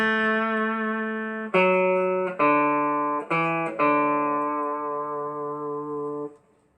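An electric guitar plays a phrase of a tune in a clean, sustained tone: about five long, singing notes, the last held and fading with vibrato, close and solo.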